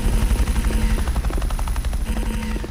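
A helicopter in a video game city battle, its steady rotor drone and low rumble running throughout alongside bursts of rapid gunfire, fairly loud and continuous.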